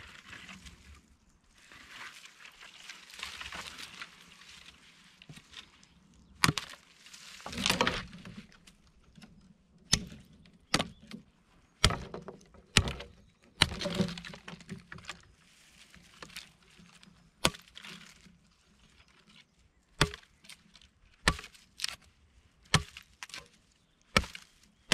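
A Fiskars Xa3 brush hook chops into brush in the woods, cutting deep with sharp, irregular whacks that come closer together in the second half, plus rustling of branches and footsteps between strikes.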